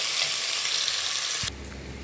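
Onion, green chilli and curry leaves dropped into hot oil with cinnamon and cloves for a potato gravy, a loud hissing sizzle that suddenly cuts back to a quieter crackle near the end.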